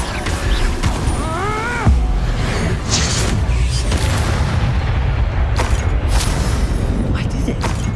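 Confringo blasting spell going off in Hogwarts Legacy, a loud boom with crackling burst and whooshes amid dense game combat noise, with a character's voice and a rising magical tone just before the blast.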